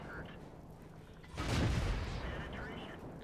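Tank shells strike and ricochet off armour in a tank battle video game, heard as a sudden loud metallic boom with a rumbling tail that stands out from quieter game ambience.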